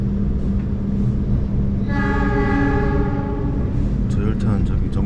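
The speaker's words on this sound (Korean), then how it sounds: "저 열차는 저기 정차하는 모양이고" Passenger train standing at Kroya station in Indonesia on the Bandung to Yogyakarta line, a steady horn-like tone sounding for about two seconds mid-clip over constant rail and carriage rumble, with talk nearby.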